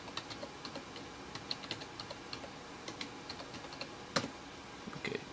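Typing on a computer keyboard at home, a steady run of light, quick key clicks with a few louder strokes near the end, close and alone with no talk.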